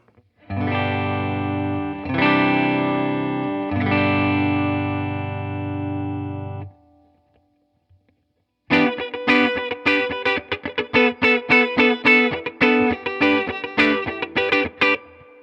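Clean electric guitar, Yamaha Revstar on fourth pickup position straight into the amp, no compression: three sustained, ringing chords, a brief pause, then a run of quick, bright strummed or picked notes with no distortion.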